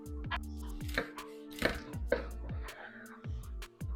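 Chef's knife slicing through an untrimmed skirt steak on a cutting board, several sharp chopping knocks in an irregular rhythm, close and fairly loud, with a faint voice in the background.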